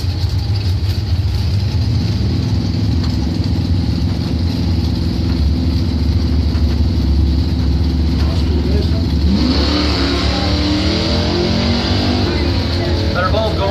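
Drag racing at a points event, a 1998 Trans Am and a 1981 Cutlass staged side by side: loud, steady engine roar holding throughout, then rising as the cars launch near the end, with an announcer talking over it.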